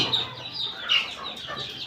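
Native chickens cluck in short, repeated bursts nearby, a busy overlapping chatter of farm fowl.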